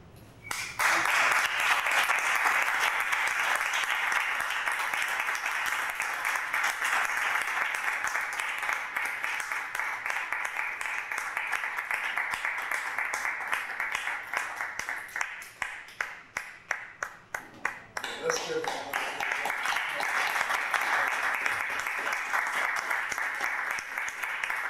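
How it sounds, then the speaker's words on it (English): An audience at a poetry reading in a branch library gives sustained, loud applause. The clapping is dense and steady for over fifteen seconds, thins to scattered claps, then swells again near the end. "Let's give Shani a great round of applause."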